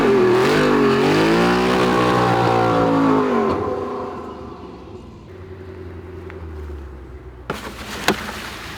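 Audi R8 accelerating hard from a standstill, a loud close engine roar climbing through the revs for about three seconds, then easing off to a lower drone with a few sharp knocks near the end.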